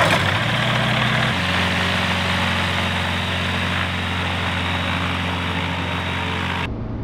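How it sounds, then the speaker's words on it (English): A bush plane's engine idles steadily on the ground during a pre-flight check, a loud, continuous propeller drone with a slight shift in pitch early on, cutting off abruptly near the end. "So right now I'm just checking the engine."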